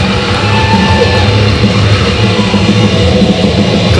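Wrestling crowd at a BVW Las Vegas Championship match jeering a wrestler before the bell, a dense, loud, sustained roar of many voices with no break across the whole stretch.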